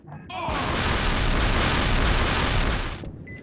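A C4 explosion in the survival horror game Cold Fear gives one big booming blast that swells into a long, loud rumbling roar and then cuts off after about three seconds.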